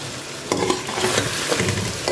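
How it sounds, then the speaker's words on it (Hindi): Powdered spices are roasted with softened tomatoes for a chicken curry, a loud close sizzle with repeated scraping strokes of a spoon stirring the thick mixture in the pan. "अब हम इस पे डालेंगे पाउडर मसाले और अच्छी तरह इसकी भुनाई करेंगे"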